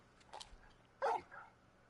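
Torgal the dog from Final Fantasy XVI gives a short, clear bark near the middle, preceded by faint vocal noises, against a quiet background.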